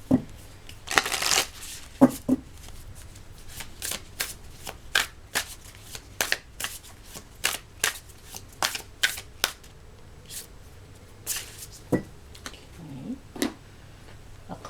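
Soul Mirror Oracle cards being shuffled by hand, a close, steady run of crisp riffling bursts repeating through the whole stretch with only brief pauses between them.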